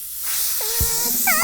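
An overinflated inflatable armband in a Hindi comedy cartoon lets out a loud, steady hiss of escaping air lasting the whole short moment, with squeaky, whistling pitched tones sliding over it.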